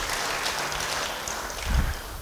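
A church congregation applauds during a sermon, giving a dense, steady wash of clapping that swells slightly near the end.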